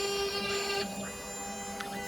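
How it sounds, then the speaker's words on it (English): Machine milling the backing off an inlay plug set into a knife box, a steady mechanical whir with a faint tonal hum, slightly louder in the first second, then running on evenly. "Just machining off the backing of the plug"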